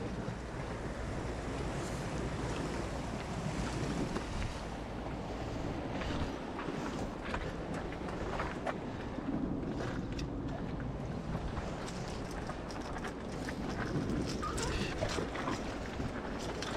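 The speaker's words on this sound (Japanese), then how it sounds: "波が強いのこれ。" Strong waves crash and wash along the shore at a shore-jigging fishing spot, a continuous rough surge mixed with gusty wind buffeting the microphone.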